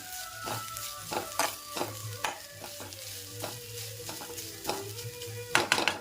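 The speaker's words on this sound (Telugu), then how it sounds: "కొంచెం వేగనిద్దాము. కొబ్బరి వేగిందండి." Grated coconut sizzles steadily in a pan for a chana dal and coconut curry, with repeated scrapes and taps of a spatula stirring it and no talking.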